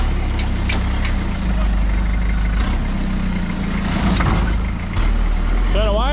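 A Toyota Landcruiser 79 series V8 runs at a low steady idle after its first start, a deep continuous rumble with faint clicks and a brief whine near the end.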